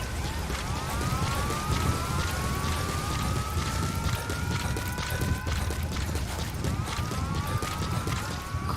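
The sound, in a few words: rain in video game Metal Gear Solid V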